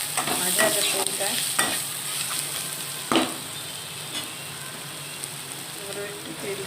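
Onion and dried red chillies fry in leftover fish oil in a pan, a close continuous sizzle with a few clanks and scrapes of a spatula stirring, no talking.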